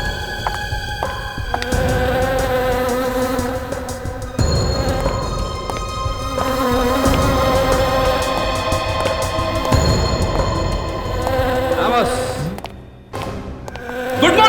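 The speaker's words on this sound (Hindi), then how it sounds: "अरे यार, ये मधुमक्खी तो इसकी नाक पे जाके बैठ गई।" A bee buzzing close by, a steady droning hum that wavers in pitch over a dramatic indoor scene with thuds and background music, continuing for many seconds before a short break.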